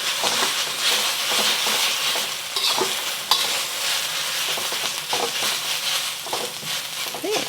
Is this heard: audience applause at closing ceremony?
no